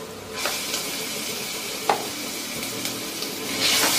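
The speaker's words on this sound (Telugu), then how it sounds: "పచ్చి వాసన పోయేంత వరకు ఫ్రై చేసుకుంటాను." Ginger garlic paste fries in a pan with curry leaves and is stirred. A quiet, steady sizzle is broken by a few sharp stirring scrapes, and the hiss swells near the end.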